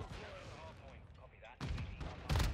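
A Bryson 800 shotgun fires in Modern Warfare II multiplayer, two sharp blasts close together near the end following quieter game ambience, with a faint voice in the background.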